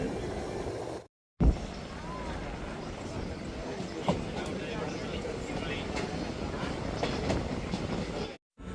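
A train rumbles and clatters steadily at Visakhapatnam railway station, with a continuous mechanical roar and occasional sharp clanks, briefly cut off at the start and end.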